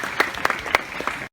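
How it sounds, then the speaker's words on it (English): Audience applause at a tiger show, a burst of close, fairly loud clapping with distinct hand claps standing out, ending abruptly. "we give him one final round of applause for the milk behaviours"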